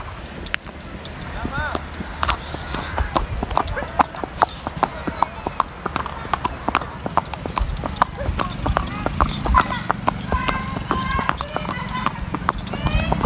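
A horse's hooves clip-clop steadily and close by as it is led along to be tied up, the sharp irregular steps running throughout while someone talks over them.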